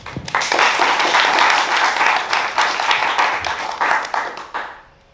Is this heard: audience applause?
yes